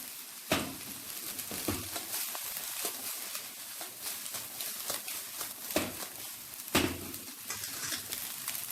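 Fried rice sizzling and frying in a pan, a steady crackle with scraping stirs and occasional sharper clatters of the utensil against the pan, heard fairly close and alone.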